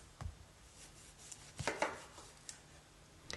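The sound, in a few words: knife slicing limes on a cutting board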